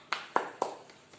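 Three crisp hand claps and a softer fourth, quick and evenly spaced, fairly faint in a classroom.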